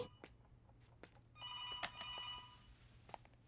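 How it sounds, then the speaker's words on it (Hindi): A telephone bell rings in a bright trilling burst lasting about a second, with faint knocks and footsteps around it in a quiet room. "Maithili, call for you."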